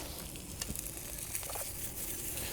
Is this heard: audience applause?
no